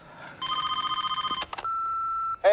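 A telephone being dialed for a call: a quick run of about a dozen evenly spaced tones, a few short clicks, then a long steady tone and the start of a loud ring or answer at the end.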